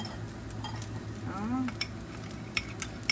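Vegetarian noodles with vegetables fry in a pan, a steady close sizzle with scraping stirs and a few light clinks of utensil against the pan.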